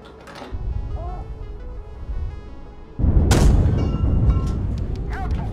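A tank cannon fires in the PC combat game Gunner HEAT: a heavy boom near the start, then a louder blast midway that trails into a long rumbling roar under a steady engine drone.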